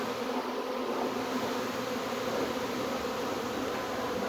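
A honey bee swarm buzzes steadily around a hive entrance, a dense continuous hum of many insects, close and even in loudness with no voices.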